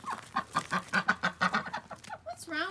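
A pet duck on a goat farm gives a quick run of rhythmic, nasal quacks, close and fairly loud, and a few higher squeaky notes follow.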